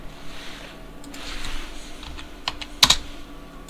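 Typing on a computer keyboard while labelling a wardrobe design drawing, a few scattered soft key taps and then a sharper double clack, close and fairly quiet.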